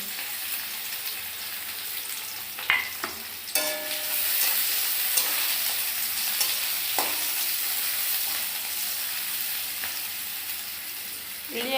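Onion and garlic frying in a pan for a dried-fish dish, a continuous close sizzle with a few spoon scrapes and clatters scattered through, steady and fairly loud, no voices.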